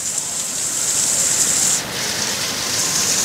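Steady rain pours down over trees where crows bathe in the heat, a dense, even hiss that holds throughout with no voices.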